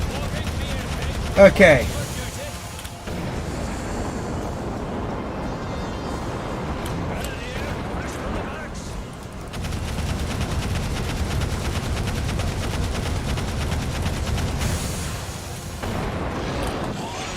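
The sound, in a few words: turret gunfire and explosions in the video game Divinity: Dragon Commander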